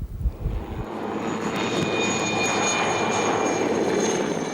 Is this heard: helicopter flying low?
yes